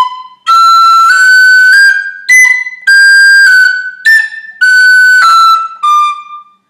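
A whistle plays a full phrase of the Killavil Jig with variation, a bright, loud solo line of quick ornamented notes with brief breaks between short runs, close and unaccompanied.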